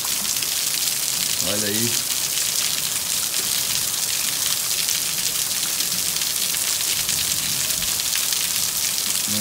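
Heavy rain falls at the Banabuiú reservoir, a loud dense hiss throughout, with someone speaking briefly over it.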